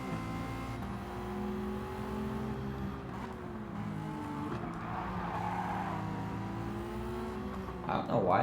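A Nissan Skyline in Gran Turismo 7 drones with a steady engine tone as it slides through corners, tires squealing faintly, with a louder burst of noise near the end.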